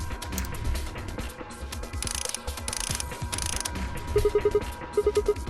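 Mechanical ratcheting and clicking as a bolt is unscrewed in Zero Escape: Virtue's Last Reward, with short bursts of bright metallic scraping, then two quick runs of evenly spaced clicks.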